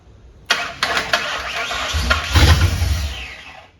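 A 1959 Ford wagon engine cranks with the starter churning through several uneven pulses and a rising rumble, loud and close, and no one speaks.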